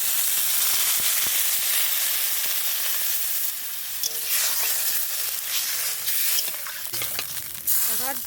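Water poured into a pan of frying spices with turmeric, a loud steady sizzle and hiss with bursts of steam and stirring scrapes, no talking.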